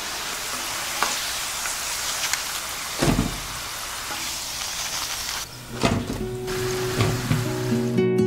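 Fish cake batter sizzles in hot oil in a pan over medium heat, a steady close crackle with a few louder spatters and stirring clatters.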